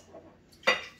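Dishes clink as a toddler washes them: a faint rattle, then one sharp, bright ceramic clatter near the end, close by and with no talking.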